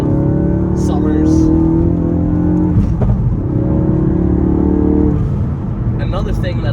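A modified Ford Focus RS with all-wheel drive on winter tires accelerates hard, its engine rising loud and close in pitch with a gear change midway, while a voice talks over it.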